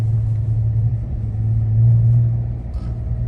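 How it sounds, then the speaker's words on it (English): A V6 Chrysler 300S in snowy cold weather gives off a deep, continuous exhaust rumble from inside the car, swelling a little in the middle, with no voices. "that fucking exhaust, when it's cold outside and shit, that shit's something serious"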